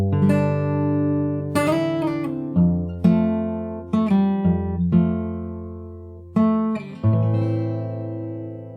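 Fingerstyle guitar plays a slow passage of plucked notes and chords, each ringing and fading before the next, clear and close.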